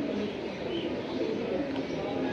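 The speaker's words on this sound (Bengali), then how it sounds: "মন শান্তি কবুতর মানে দিল শান্তি" Pigeons coo softly and continuously in a coop full of birds for sale, a low steady murmur of several birds close by, with people talking over it.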